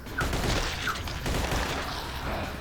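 Rapid gunfire in a nighttime zombie video game, a dense continuous burst of shots of moderate loudness running throughout, with a couple of faint high chirps early on.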